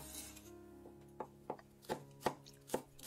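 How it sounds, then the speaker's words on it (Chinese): A single small chili pepper being chopped on a board with a knife, a run of crisp, evenly spaced taps that grow louder and quicker, close up with no voices. "小米辣1只，切碎备用。"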